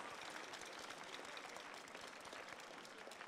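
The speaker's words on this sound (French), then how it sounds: "Je vous demande d'applaudir les huissiers." An audience at a pastry world championship prize-giving ceremony applauds steadily, a dense, even wash of many hands clapping with no breaks, fairly faint and distant.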